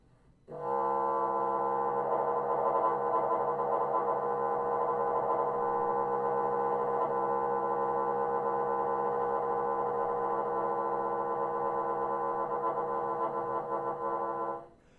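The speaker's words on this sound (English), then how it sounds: "So this is a really interesting multiphonic." A single sustained woodwind multiphonic holds steady for about fourteen seconds, several tones sounding together in a buzzy, slightly rough chord at a soft level.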